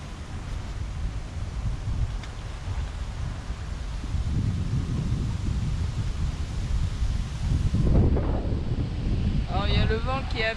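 Wind picking up while fishing buffets the microphone with a continuous low roar that swells and grows stronger toward the end, while faint chirping sounds appear at the end.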